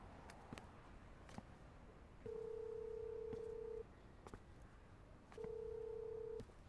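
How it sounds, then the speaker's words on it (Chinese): A telephone is dialed in a Chinese TV drama: faint key clicks and taps, then two long steady electronic tones, each lasting about a second or more, separated by quieter clicking, with no talking. "我打个电话。"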